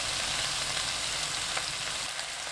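Bean sprouts in a pan with cooking oil and mirin over high heat give a dense, continuous sizzle that stays steady and close for the whole stretch, with no voices.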